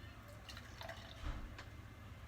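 Schlitz High Gravity malt liquor pours from a pop-top can into a plastic cup, a faint, close trickle and fizz with light dripping and no talk.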